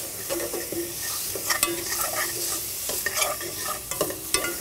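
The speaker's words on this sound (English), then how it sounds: "The shrimp here, once we're sauteing it, it's gonna take approximately 3 to 4 minutes to cook" Shrimp sautéing in a hot pan, a steady close sizzle broken by repeated scraping stirs and light clatter, with no talking.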